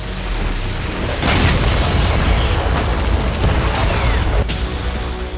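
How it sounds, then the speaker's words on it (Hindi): Russian FAB-500 guided bombs strike Ukrainian positions on the eastern front, a continuous roar of heavy booms and rumbling blasts, loud and dense, with sharper cracks layered over it. "विमानों के गुजरते ही एक के बाद एक कई बड़े धमाके हुए और पूरा इलाका धुआं-धुआं हो गया"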